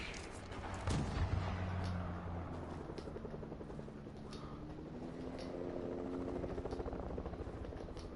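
Helicopter rotor thrum in a PS4 video game, steady and close, droning throughout with a low engine hum and faint bursts of distant gunfire layered underneath.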